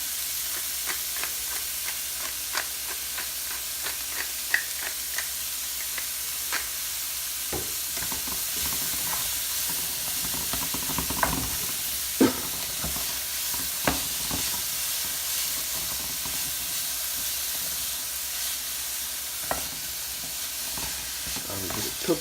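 Orzo, chicken and vegetables cooking down in an oiled pan with salt and pepper, giving a steady close sizzle and steam hiss, with scattered clicks of stirring and a few sharper utensil knocks.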